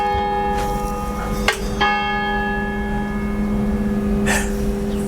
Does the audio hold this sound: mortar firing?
no